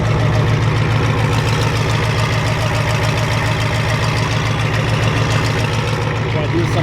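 Ford F-250 with a 7.3 IDI diesel warming up at idle, a close, loud, steady clatter with an even rapid knock that continues unchanged throughout.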